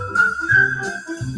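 Melodic whistled tune in a radio show jingle, a few bright sustained notes over a short musical backing, loud and close.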